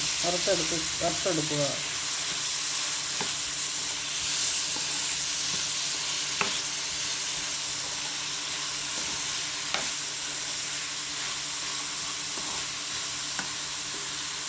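Tamarind with chili powder and salt fries for tomato chutney, a continuous close sizzle with faint stirring ticks; a voice briefly talks at the start.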